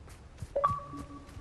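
Revelio spell cast in the video game Hogwarts Legacy, a brief magical chime with rising bright tones that ring on and sustain softly, fairly faint, with no talk over it.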